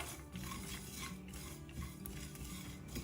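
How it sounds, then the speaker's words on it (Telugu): A spoon stirring dry grated coconut and spices roasting in a pan over a low flame, soft repeated scraping and clinking strokes, quiet and close, with no talking. "వీటన్నిటిని కూడా లో ఫ్లేమ్లో మాడకుండా వేయించుకోవాలి."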